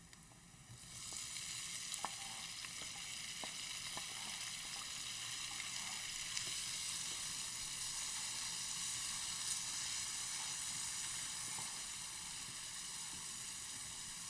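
Tomatoes drop into a hot pan for pasta sauce and start a loud, close, continuous sizzle and hiss that holds steady, with occasional small pops and clicks.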